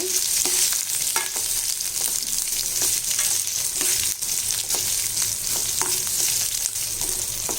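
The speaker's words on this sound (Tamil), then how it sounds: "ஒரு பெரிய சைஸ் வெங்காயம் அதையும் போட்டுடலாம் இதை நல்லா தூவிலே வச்சு நல்லா வதக்குங்க" A large sliced onion sautéing in oil in a pan for tomato chutney gives a dense, continuous close-up sizzle, broken by intermittent scraping and tapping of a stirring spoon, with no talk over it.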